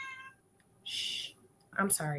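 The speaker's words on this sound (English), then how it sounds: "I'm really sorry about my cat." A domestic cat gives a short meow close by, overlapping a person who hushes it and speaks softly.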